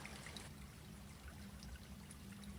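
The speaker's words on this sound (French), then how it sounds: "Vous vous dirigez vers cette source sonore pour vous retrouver devant une magnifique cascade" Water trickles and splashes steadily as a waterfall pours into a clear pool, a soft, continuous flowing sound heard alone at low level.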